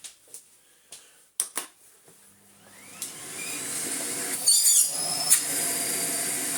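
A Miele Blizzard CX1 vacuum cleaner starts after a few faint clicks and taps, then runs steadily with a loud, rising whir and shifting suction noise.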